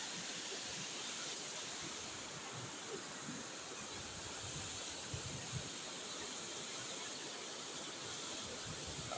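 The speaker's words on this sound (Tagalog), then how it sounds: "Taas ng alon." Rushing river water near Balanac Dam: a steady broadband roar of churning waves, constant and fairly loud with no breaks, carrying no speech.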